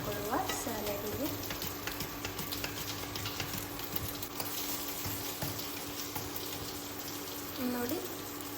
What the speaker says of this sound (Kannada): ನೋಡಿ ಫಿಶ್ ಫ್ರೈ ಆಗ್ತಾ ಇದೆ